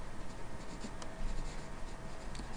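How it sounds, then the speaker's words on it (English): Black sketching pencil writing a name on heavy 60-pound paper, a quiet close scratching of short strokes and taps, with no voices. "Write your name."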